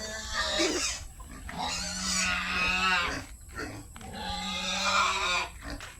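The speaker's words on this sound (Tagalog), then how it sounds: "At yung mga baboy po namin, eh," Hungry pigs on a farm in the province, a close, loud chorus of continuous grunting, oinking and squealing that barely lets up.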